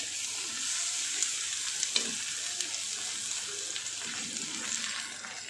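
Chopped potatoes tumble into a hot pan for a Gujarati fasting-style dry potato bhaji and get stirred, giving a steady, close sizzle with scattered scraping clinks from the spoon throughout.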